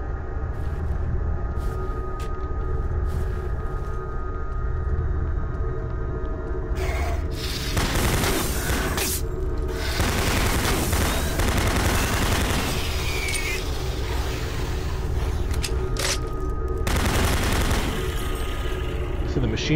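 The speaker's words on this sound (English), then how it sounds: "the machine gun, like, takes them out instantly" Machine gun fire in a video game: bursts of rapid shots and booms crash in several clusters over a humming backdrop, loud and close, with quieter gaps between volleys.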